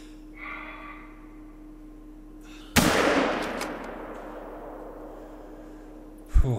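A single sharp hunting-rifle shot in theHunter: Call of the Wild, a loud crack with a long rolling echo decaying over several seconds, followed near the end by a second abrupt burst.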